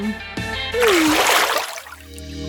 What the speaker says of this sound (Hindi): वो उसे पानी में क्यों डाल रही है?